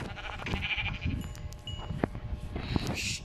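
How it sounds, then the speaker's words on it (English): Sheep bleating inside the Minecraft video game, with several short bleats spread across the moment over a busy low game background. "Oh, there's a sheep too."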